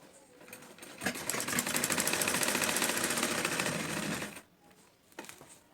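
A sewing machine runs a steady, fast stitching burst of about three seconds on a blouse seam, then stops, with quieter handling noise around it.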